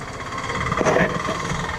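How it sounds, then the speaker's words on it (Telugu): Motorcycle exhaust note, a steady close engine rumble with a brief swell in the middle, no talking. "మొత్తం ఎగ్జాస్ట్ నోట్ సౌండ్ అదంతా"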